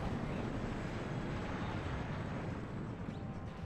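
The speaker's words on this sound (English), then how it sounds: "HE bomber comes back in but is taken out by the anti-air chopper." A high-explosive bomber aircraft in the WARNO strategy game roars steadily overhead, a dense broadband engine rush that holds loud and constant throughout with no voices.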